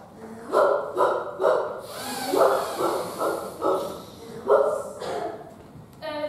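A person imitates the three-headed dog Cerberus barking, producing a rapid series of gruff, rhythmic bark-like bursts, some doubled, all close and fairly loud.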